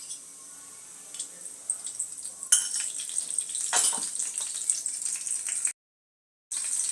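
Oil heating in a ladle for sambar tempering, giving a soft, thin sizzle and crackle that grows steadier over several seconds, with a few light metallic clinks and a brief silent gap near the end.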